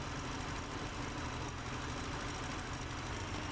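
Volkswagen Corrado G60 engine at idle, a steady, faint low hum with an even mechanical rhythm, heard alone with no voices.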